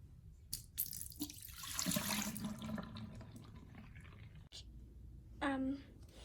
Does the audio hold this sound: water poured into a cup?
yes